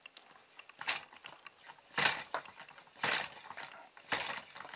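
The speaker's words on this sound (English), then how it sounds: "it's just converting a circular motion over here into a linear motion here that moves the magnet backwards and forwards through the coil" A homemade generator turns an electric motor's circular motion into a linear stroke that drives neodymium magnets back and forth through a coil. It makes a close, rhythmic mechanical clatter with a louder ratcheting burst about once a second, and no one talks.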